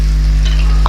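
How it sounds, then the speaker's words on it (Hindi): Two small onions frying in oil, a brief close sizzle over a strong low steady hum, ending with a short stirring knock. "2 छोटे साइज़ के प्याज लिए हुआ है, तो पहले इसको फ्राई कर लेते हैं।"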